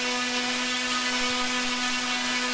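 A brushless motor spins at full throttle on a dyno at about 7450 RPM, giving a steady, loud, high-pitched electric whine with a strong constant tone, unbroken throughout and with no talking.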